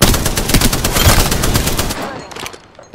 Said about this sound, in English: They're getting shot at.